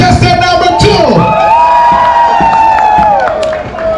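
A crowd at Rick's Cafe cheers and whoops loudly for a contestant, with voices rising into sustained shouts and yells up close, fading slightly toward the end.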